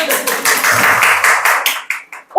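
An audience at an academy's middle-school promotion information session claps for a couple of seconds, a dense patter of hands that thins out toward the end, with a voice breaking in at the close.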